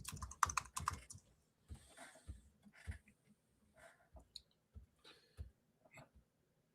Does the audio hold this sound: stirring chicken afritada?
no